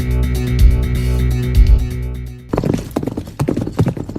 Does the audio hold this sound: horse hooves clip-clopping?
yes